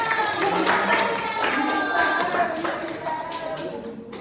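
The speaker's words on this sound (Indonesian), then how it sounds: "Ya, tepuk tangan untuk Nanang." Classroom applause for a student, a brief patter of clapping mixed with children's voices, fading out toward the end.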